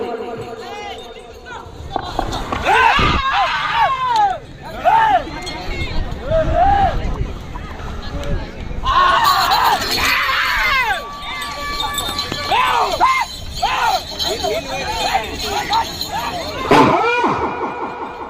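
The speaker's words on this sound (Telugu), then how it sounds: "కేకలేయాలా రావాలా విజిల్స్ కేకలు." A noisy outdoor crowd shouting and cheering, with sharp whistles and squeals cutting through the steady babble of voices.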